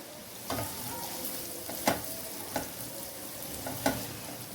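Vegetables cooking in a pan for restaurant-style chow mein: a soft, steady sizzle, with a handful of distinct stirring clinks and scrapes spaced a second or so apart.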